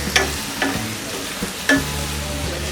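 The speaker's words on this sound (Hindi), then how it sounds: "और इसे हम मीडियम फ्लेम में फ्राई करेंगे।" Chilies and mixed vegetables fry in a pan over a medium flame, a steady sizzle broken by a few sharp clinks and scrapes of a stirring spoon against the metal.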